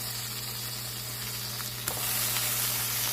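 Tuna steaks sear in a hot pan with a continuous loud, close sizzle and hiss, a brief sharp tap midway and no talk.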